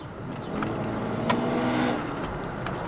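A Mercedes 600SEL with the M120 V12 pulls away in first gear, its engine note rising steadily from inside the cabin and easing off near the end, with no talk.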